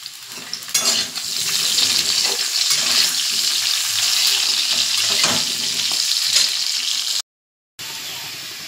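Green chili hits a hot frying pan, starting a loud, steady sizzle of frying with stirring scrapes throughout that cuts out briefly near the end.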